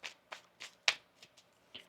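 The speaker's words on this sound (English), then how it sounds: "One more shuffle here." Tarot cards are shuffled close up in a quiet room, giving about seven quick, crisp riffling snaps spaced roughly a quarter second apart.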